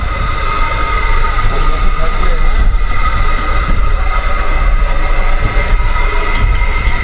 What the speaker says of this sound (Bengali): আমাদের এই ট্রেন তার যাত্রাপথে 1710 কিলোমিটার অতিক্রম করে গিয়ে কালকা পৌঁছাবে